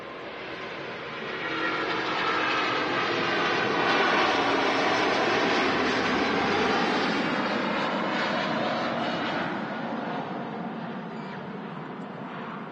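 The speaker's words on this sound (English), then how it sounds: "There she goes, the Singapore Airlines A350." A Singapore Airlines Airbus A350 roars down the runway and climbs away at Manchester Airport, a loud sustained jet rumble and whine that swells toward the middle and eases slightly near the end, with no talk.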